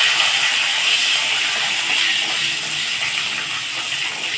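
Green chillies and cumin seeds sizzle in hot oil while mango pulihora is made, a steady close hiss and crackle that runs unbroken throughout with no voices.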